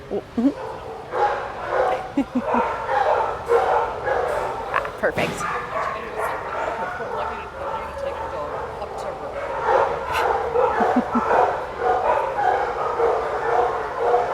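Dogs at an animal shelter bark and yip continuously, with some whimpering mixed in, fairly close and loud, while a person speaks briefly over the noise.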